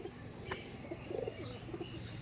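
Kalanka pigeons, tournament-quality Madrasi birds, give a few soft, low coos that are faint against a murmuring room background, with no voices.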